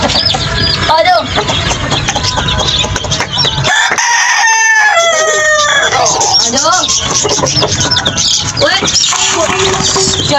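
Chickens and small chicks cluck and crow loudly throughout as grain is scattered for them, with a rooster's crow standing out partway through and people talking over the busy flock.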